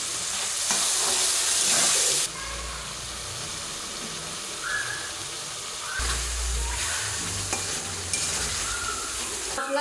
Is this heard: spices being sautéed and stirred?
yes